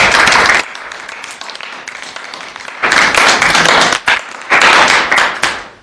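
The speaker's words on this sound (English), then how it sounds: "Everybody give a round of applause, please." A JROTC audience gives a round of applause, loud, dense clapping in bursts, with a quieter patter between the louder swells.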